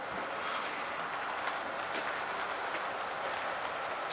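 Accurascale TransPennine Express MK5A model coaches roll along a layout with a steady, continuous rumble and faint rhythmic clicking from the wheels over the track joints, close and even.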